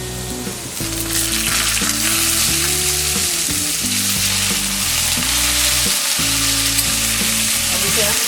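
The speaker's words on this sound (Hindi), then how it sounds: "और इसे हम लो फ्लेम में फ्राई करेंगे।" Soaked red chillies frying in oil over a low flame for garlic chutney, a loud continuous sizzle and crackle up close, steady throughout with a faint tonal hum underneath.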